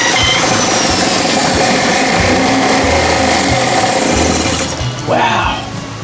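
A Tohatsu 8 HP four-stroke outboard motor spun by a drill fires up and runs with an uneven, pulsing engine note, loud and close, before dropping off near the end as a voice speaks briefly.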